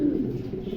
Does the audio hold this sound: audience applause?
no